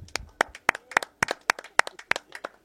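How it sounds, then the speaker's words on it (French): A small group claps by hand at an open-air Mölkky tournament after a team wins its first round. The claps come as a sparse, uneven patter of about a dozen sharp, close slaps over a few seconds, with no voices. "On peut les applaudir"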